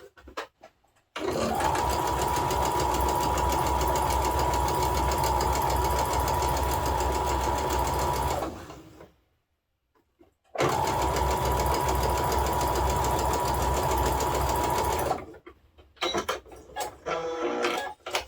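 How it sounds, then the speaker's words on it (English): A sewing machine stitches quilt pieces together in two long, steady, close whirring runs separated by a short pause, loud and mechanical with no talking. "So let's just sew these pieces up together, and then section A is all done."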